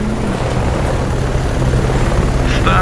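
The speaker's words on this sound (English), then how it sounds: "Where's the helicopter?" A helicopter in the off-road racing video game Baja: Edge Of Control on Xbox 360, a steady loud rotor roar with rhythmic blade thumping that continues throughout with no talk.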